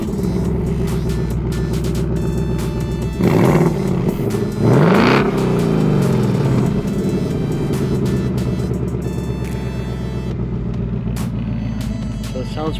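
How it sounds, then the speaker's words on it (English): Ford Mustang GT V8 with an electronically valved exhaust in normal or sport mode, rumbling steadily at idle, then two loud revs swelling up and falling back, with people talking over the engine. "exhaust mode, because on this particular exhaust it has a valve, electronic valve"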